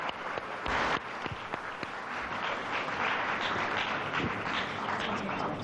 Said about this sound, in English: How about if we have, for these guys so far, a round of applause for what they're doing here.